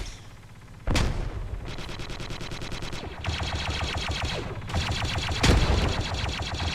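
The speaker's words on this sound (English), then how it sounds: "Taking grenadier fire by the sounds of it." A Squad battle with grenadier and gunfire, heavy explosive booms punching through sustained rapid automatic fire and overlapping shots, loud and close throughout.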